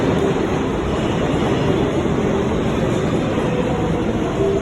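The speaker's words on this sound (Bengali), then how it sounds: "এই যে ট্রেনে একটা থামছে" An underground metro train rumbles and roars steadily in a deep tunnel station as it slows to a stop, a loud continuous rush with no speech.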